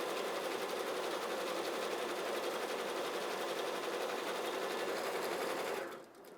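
A multi-head embroidery machine runs with a fast, even needle chatter, close and steady, then stops abruptly near the end.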